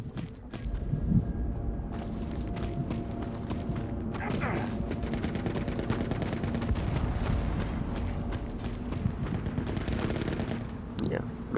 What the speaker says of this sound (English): here come the tanks to fight it out with each other